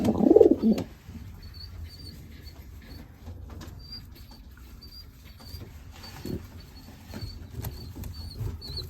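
Young racing pigeons in a breeding loft give soft, low cooing and rustling with a sharper burst at the start, over faint steady background hum and occasional light taps.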